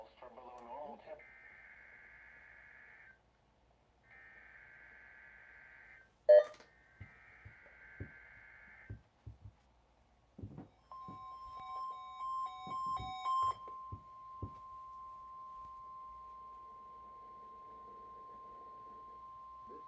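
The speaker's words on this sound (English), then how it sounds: "The tones you just heard were a test of the specific area message encoding and tone alert systems." Steady electronic weather radio alert test tones sound in bursts, followed by a long continuous single tone, with sharp clicks and faint background noise.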